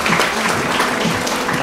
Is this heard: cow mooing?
no